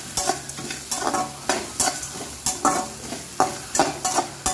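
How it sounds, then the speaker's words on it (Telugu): Chopped vegetables for a ridge gourd chutney, seasoned with turmeric, fry in a pan. They sizzle under rhythmic, repeated stirring scrapes about twice a second, close and fairly loud, with no speech. "సో మనం 2 నిమిషాలు ఇలాగా మూత పెట్టుకొని ఫ్రై చేసుకుందామండి."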